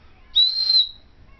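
A Bear Grylls Ultimate Survival Knife's built-in whistle gives one loud, shrill, steady blast lasting about half a second, close up and alone.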